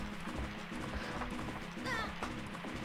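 Horse galloping in the video game Zelda: Majora's Mask, a rapid clip-clop of hooves under game music and effects, with someone talking over it.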